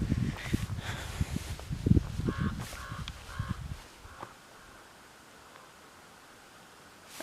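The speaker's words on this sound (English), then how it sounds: "I'm listening to ravens overhead." Ravens croak several times in harsh, hoarse calls overhead, then fade, leaving a quiet outdoor hiss with faint rustling.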